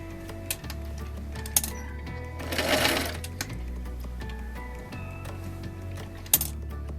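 A sewing machine stitches a Flying Geese quilt block, its motor running in steady bursts with brief pauses and a few sharp clicks, close and alone.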